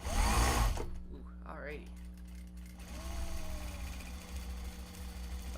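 A sewing machine top stitching a Japanese fabric bag whirs in short bursts at close range, with a person talking over and between the runs.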